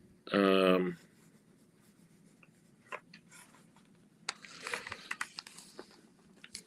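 A medium number 8 fountain pen nib scratches faintly across paper in short irregular strokes and taps, quiet and close, with a brief spoken remark at the start.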